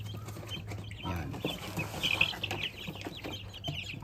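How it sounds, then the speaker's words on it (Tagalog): Laying hens in a covered poultry house cluck softly and steadily, a faint crowd of birds over a low hum of ventilation or machinery. "ayun po yung ating mga manok sa loob"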